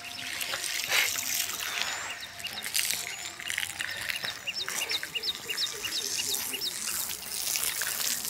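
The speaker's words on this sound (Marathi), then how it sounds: "माई पाणी मारून राहिली इटीवर" Water is splashed by hand onto brick walls in a village, giving soft trickling and splattering at close range while birds chirp in the background.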